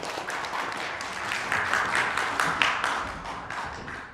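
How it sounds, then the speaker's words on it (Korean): Audience applause welcoming a guest lecturer at a bioethics lecture, a steady wash of clapping from a crowd that swells slightly midway and holds for about four seconds, with no talking over it. "우리 박수로 환영하겠습니다."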